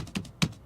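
Two crisp clicks from a computer keyboard, well separated, close and clear, with no voice.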